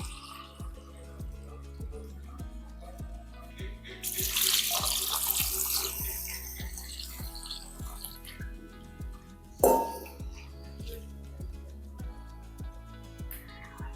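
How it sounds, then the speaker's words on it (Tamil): Mixed grains for sprouting are washed in water, with sloshing and splashing peaking midway, a sharp clink of a vessel, and a soft rhythmic beat running underneath. "இது ஒரு 5-6 வாட்டி நல்லா கழுவிடணும்."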